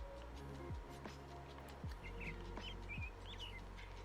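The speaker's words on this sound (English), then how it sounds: "Enjoy the sound of the birds chirping." Birds chirp in a Minecraft world running the Create: Astral modpack, a series of short high chirps and tweets over a steady low in-game ambient bed with occasional soft swooshes, fairly faint and with no talking.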